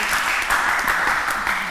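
A studio audience applauds on a French television game show, a dense, steady wash of clapping that holds evenly for a couple of seconds, with no voices standing out.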